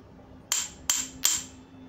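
A Japanese sledgehammer with a pointed head strikes a hard surface three times in quick succession, each a sharp, close metallic crack with a short ring.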